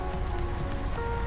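Hail pelting down in Subnautica Below Zero, a steady dense patter of icy impacts with no pauses, heard alone over a low humming background.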